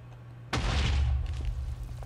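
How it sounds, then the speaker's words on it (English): A giant block of TNT detonates in the video game Minecraft, a sudden loud boom with a deep rumbling tail that lingers and slowly fades over the next second and a half above a steady low hum. "So there's our giant explosion."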